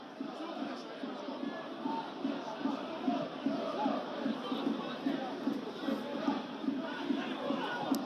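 Stadium crowd at a Serie C football match, Giana Erminio against Vicenza, keeps up a steady roar of applause and noise at middle distance for the whole stretch, with murmured voices mixed into the wash.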